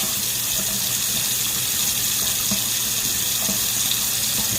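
Tap water splashing and gushing steadily while a Butterball XL turkey fryer is cleaned at a sink, a constant close hiss with small irregular spatters.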